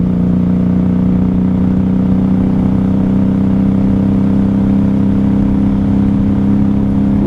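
A 1994 Honda Magna 750 VF750C V4 motorcycle engine held steady at about 3,500 to 4,000 RPM, running low on fuel, a loud, close, continuous hum with no talking.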